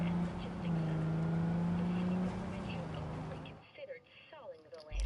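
A car engine in Cyberpunk 2077, the game's starting car, hums and revs loudly for several seconds, then cuts away to quieter game sounds, with voices talking over it.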